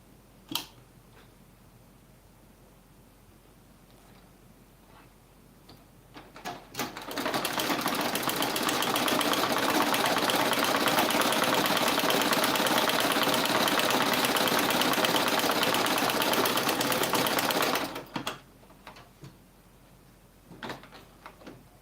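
A sewing machine stitches the joined loop of a baby turban cap, running in one steady, loud, continuous stretch of about eleven seconds, with quiet handling noises before and after and no talking.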